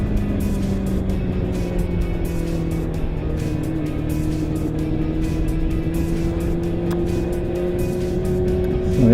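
A Kawasaki ZZR 400 motorcycle ridden back from the beach, a steady engine drone with sustained tonal hum and constant wind rush, loud and continuous throughout.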